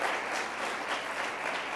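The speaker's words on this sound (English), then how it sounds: "the Civil Air Patrol cadets deserve another round of applause for posting of the colors" Audience applause for Civil Air Patrol cadets after their posting of the colors at a Columbus neighborhood community gathering: a dense, steady wash of many hands clapping throughout, fairly close and even in loudness.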